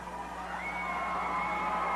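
A wrestling arena crowd at a 1993 Universal Wrestling Federation event cheers and yells steadily at a distance, a continuous faint roar of many voices with no pauses.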